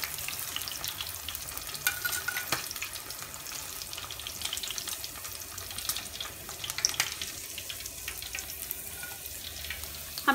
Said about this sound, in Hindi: हम इसे निकाल लेंगे और इसी तरह हम सारे फ्राई कर लेंगे।